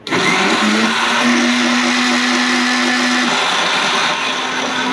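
A mixer grinder whirs loudly and steadily as it blends rice with water, its motor pitch dropping slightly partway through as it churns, running continuously without pause.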